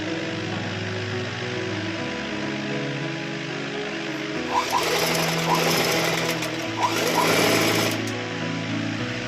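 Sewing machine running steadily while stitching a seam on a long frock made from a silk saree, a continuous close mechanical whir that grows slightly louder and busier in the second half.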